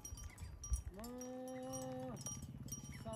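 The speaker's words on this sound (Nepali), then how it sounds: "ए यति बाख्रा धेरै छ" Goats along the road to Muktinath near Jomsom give one long, wavering bleat at close range, following a few rougher, shorter calls amid outdoor background noise.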